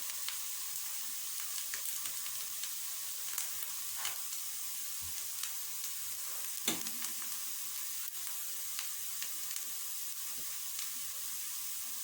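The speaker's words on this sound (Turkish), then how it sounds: "gördüğünüz gibi çok güzel kızardı köftelerim" Köfte meatballs frying in a pan give a steady, soft sizzle and hiss that runs the whole time, with a few faint clicks and scrapes of turning, and no voices.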